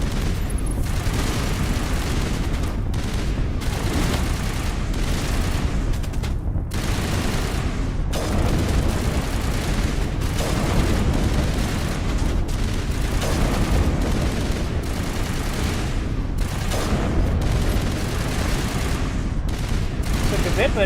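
Sustained heavy gunfire in the Mass Effect video game, with dense overlapping shots and booming impacts going on continuously for about twenty seconds at loud volume.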